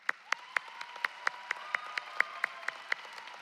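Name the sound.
round of applause for graduates' families and friends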